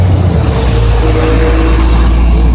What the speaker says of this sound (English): And here goes the bus.